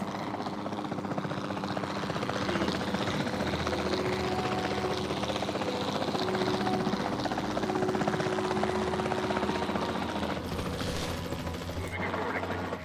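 A helicopter in Jurassic World Evolution 2 drones steadily and loudly with rotor chop throughout, mixed with mechanical noise and bursts like gunfire near the end.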